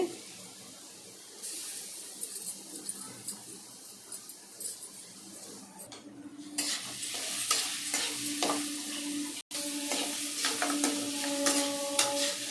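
Tempering for cucumber chutney drops into hot oil; quiet stirring at first, then a sudden loud sizzle bursts up and keeps crackling steadily with faint popping, close by and alone.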